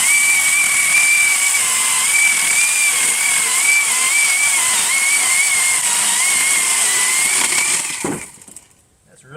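A cordless chainsaw cuts through a bamboo stalk almost four inches thick. Its steady, loud, high motor whine and hiss run unbroken for about eight seconds, then cut off abruptly.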